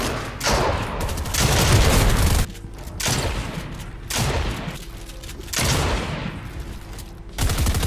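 Loud bursts of shotgun fire from a video game shooter, several heavy blasts in quick clusters separated by brief lulls, close and dominant with no talk over them.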